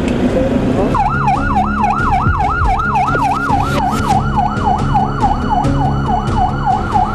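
An ambulance siren wails in a fast, repeating rising-and-falling pattern, loud and near, starting after a brief moment of traffic noise and continuing steadily.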